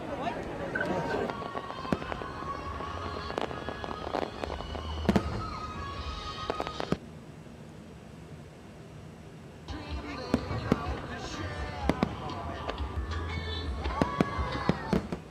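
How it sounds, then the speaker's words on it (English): Fireworks burst over the National Mall in Washington, D.C. on Independence Day, sharp cracks and booms scattered irregularly at a distance, with a quieter lull midway before the bangs resume under a voice talking. "thousands gathered at the National Mall in Washington, D.C. on the 4th of July to witness a fireworks display"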